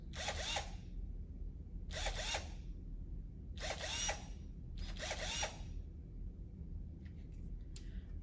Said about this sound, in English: So this is a drill that is powered by a battery.